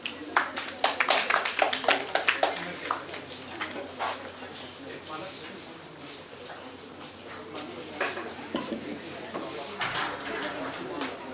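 A round of applause for a presenter at an ideathon pitch event. Clapping bursts loud and dense at first, then thins into scattered claps and room noise, with a few later spikes of clapping.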